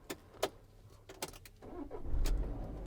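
A 2019 Citroen Relay 2.2 BlueHDi 35 Enterprise diesel van is started with its flip-out key: a few sharp clicks and rustles, then the engine cranks and catches into a low, steady rumble toward the end.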